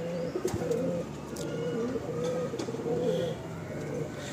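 Male pigeons in a loft coo in low, rolling phrases, several overlapping calls close by against a steady ambient hum.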